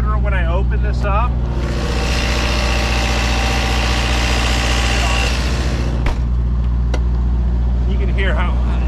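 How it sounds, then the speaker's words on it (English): Diesel generator running inside the generator bay of a Prevost motorcoach, a steady loud engine drone that swells when the bay opens, with brief voices over it. "This is gonna be the generator bay here, so it's gonna get a lot louder when I open this up."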